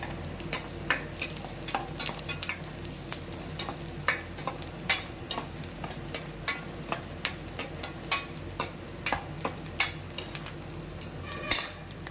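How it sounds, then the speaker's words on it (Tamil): Onions sautéing with salt in a pan, for an okra stir-fry, a low steady sizzle punctuated by regular sharp taps and scrapes of a spatula against the pan. "இந்த வெங்காயம் கொஞ்சம் சீக்கிரமாக வதங்கிறதுக்காக கொஞ்சம் உப்பு சேர்த்துக்கிறேன்"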